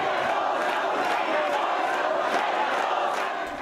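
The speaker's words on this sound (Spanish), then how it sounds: "El fin del cabildo se dio en medio de arengas de quienes apoyan la revocatoria y aplausos de quienes apoyan las políticas de Peñalosa" A crowd at a town hall meeting chants rallying cries and claps, a dense, continuous roar of voices and applause that stays loud throughout.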